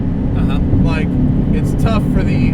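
A modified 2005 Subaru Legacy GT wagon accelerating on the road, its steady loud engine drone filling the cabin while people talk over it.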